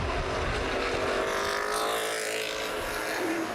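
Race cars roar around the dirt oval at New Paris Speedway during the Summer Sizzler 100, a dense continuous engine drone with rising and falling revs as they pass.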